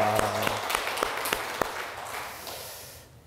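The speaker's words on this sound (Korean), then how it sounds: "하나님 앞에 영광의 박수를 한번 올려드리겠습니다" Brief applause from a church congregation at a Christmas thanksgiving service, a burst of clapping with a few sharp claps that thins and fades out within seconds, with a voice briefly audible at the start.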